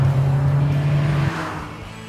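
A Ford Fiesta Zetec S with a 1.6 petrol engine drives through a corner, its engine holding a steady loud drone that drops away after about a second, leaving a fainter running note.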